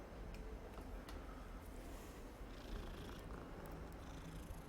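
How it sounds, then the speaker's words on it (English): A calico cat in Hogwarts Legacy purrs softly and steadily at close range, a low continuous rumble with faint ticks in the background. "What's a nice calico cat like you doing here?"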